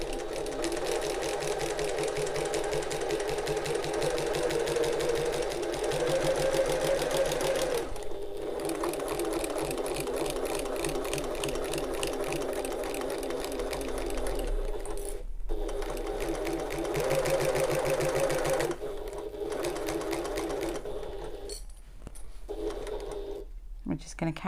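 A sewing machine runs in bursts while back stitching a backpack, its rapid mechanical needle chatter stopping and restarting several times, with a person talking over parts of it.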